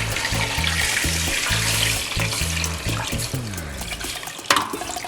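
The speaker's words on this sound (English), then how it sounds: "So what I do is that I pour more water inside." Water is poured into a pot of cooking meat for ogbono soup, a steady rushing pour over a low bubbling sizzle that thins out toward the end, with a sharp clink near the finish and no talking.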